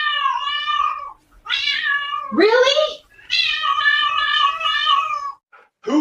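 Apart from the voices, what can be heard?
cat meowing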